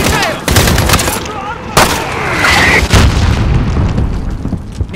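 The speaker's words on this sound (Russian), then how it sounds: "Минометы!" Mortar fire in Call of Duty: Modern Warfare (2019): loud, heavy booms and blasts in two or three bursts, with layered gunfire and battlefield noise between them.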